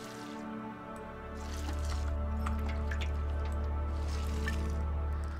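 Watering can pouring water in the video game Among Trees, a steady liquid stream that swells in after a second and continues evenly over a humming game background.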